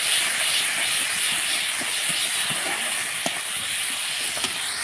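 Onions, chilies, cumin, turmeric, garlic and ginger paste sizzle steadily in hot oil in a wok, a dense continuous hiss with faint scraping stirs, close and fairly loud.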